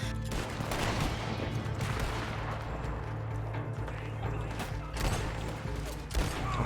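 Shotgun blasts in Red Dead Online, with repeated sharp, booming shots and rattling gunfire in quick succession over busy game noise.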